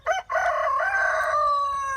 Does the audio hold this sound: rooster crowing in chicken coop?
yes